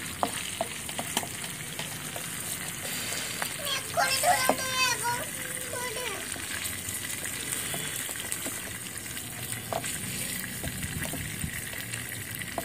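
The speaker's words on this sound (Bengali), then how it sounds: "চিকেনটা আমার ভাজা হয়ে গেছে, চিকেনটাকে আমি তুলে নেবো।" Chicken fries in a tiny pan in a miniature outdoor kitchen, a faint, steady sizzle with occasional clicks and light stirring while a person talks briefly partway through.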